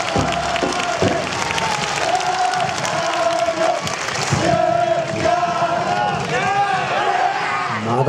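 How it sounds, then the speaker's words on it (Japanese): Crowd applause and shouts at the Nagasaki Kunchi festival, Ginya-machi shachi taiko performance at Suwa Shrine, loud clapping and cheers mixed with a chanting announcer and drums throughout. "拍手をお願いします。"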